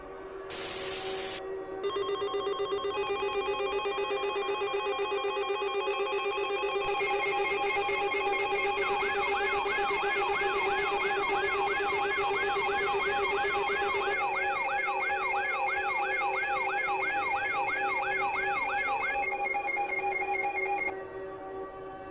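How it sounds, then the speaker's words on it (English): Emergency Alert System activation tone for an emergency action notification: a sustained loud two-tone electronic alert with a warbling tone layered over it in the middle, running for about twenty seconds before it cuts off. "Stand by for an activation of the emergency alert system for an emergency action"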